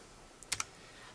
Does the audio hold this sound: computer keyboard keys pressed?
yes